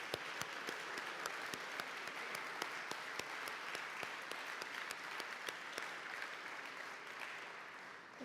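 Sustained, dense applause from a seated crowd at the National World War II Museum's Aleutian Islands Campaign opening reception, honoring U.S. military members and their families; even, continuous clapping with sharp individual claps standing out and no talking.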